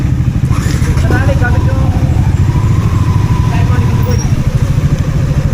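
A motorcycle engine drones steadily and loudly close by with a throbbing low rumble, while someone speaks over it.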